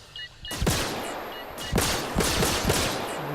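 Gunfire in the space combat game Star Citizen Arena Commander, with an opening blast followed by several sharp bursts of rapid shots against a steady background roar, loud and close, with no speech.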